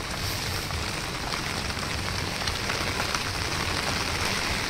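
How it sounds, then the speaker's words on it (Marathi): Steady rain patters densely on surfaces nearby, a continuous even wash of drops with no talking. "पाऊस पण चालू आहे"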